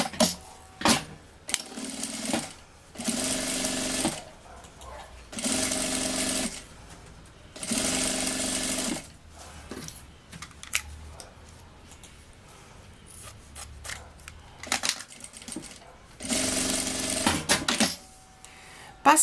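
A sewing machine runs in several loud, steady bursts of a few seconds each, stitching the fabric lining of a child's backpack, with short pauses and handling noises between runs.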